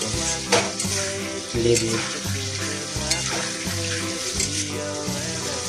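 Meat being sautéed (kosha) in a pan, a dense steady sizzle with stirring scrapes and a low tonal hum running underneath, fairly close and loud throughout; a voice speaks one brief word.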